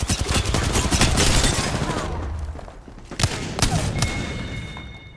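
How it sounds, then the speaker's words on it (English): Video game gunfire in a squad shooter match, with rapid bursts of automatic shots and scattered single cracks, close and loud, easing briefly midway before more sharp shots ring out. "I'm getting shot at."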